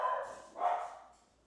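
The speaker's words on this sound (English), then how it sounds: "They're barking with their collar on it." Dogs wearing collars bark twice, each a short, close bark with a pause between, then the sound fades into quiet on a New Year's Eve night.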